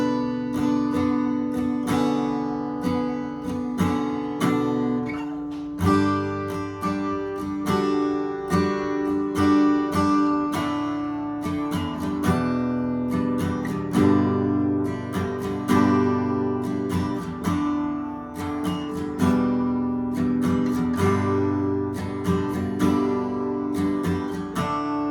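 A solo acoustic guitar in standard tuning with no capo plays a song, strummed steadily and rhythmically throughout at a close, even volume with no voices.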